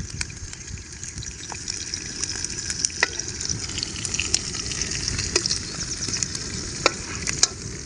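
Brinjal pieces for a masala brinjal curry fry in hot oil with a dense, continuous crackling sizzle, scattered sharp pops and spits breaking through at irregular moments, close and alone.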